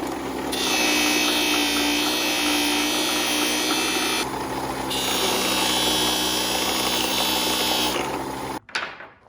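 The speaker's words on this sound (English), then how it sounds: "It's important to look when you're polishing the faces at different angles at it in the light" A power tool whines steadily while polishing the faces of steel hammers, a loud continuous grinding hiss that dips briefly in the middle, then cuts off sharply near the end with a small clatter.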